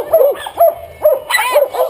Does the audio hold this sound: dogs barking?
yes